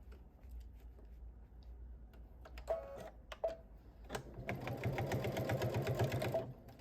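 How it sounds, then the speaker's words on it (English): Home sewing machine stitching fabric for a ScanNCut project, two brief bursts of rapid mechanical stitching followed by a longer steady run of fast, rhythmic needle clatter, close and clear. "I'm just gonna give it one quick stitch right down the center"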